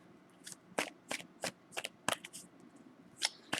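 Tarot cards being shuffled by hand, a series of crisp, papery riffles and snaps in irregular bursts, close and fairly quiet against a still background.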